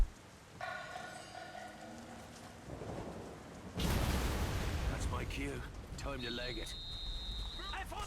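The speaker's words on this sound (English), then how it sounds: "Explosions." Explosions in the video game The Saboteur boom loudly and fill the mix, with rumbling blasts, crackling debris and whistling effects over a dense game soundscape.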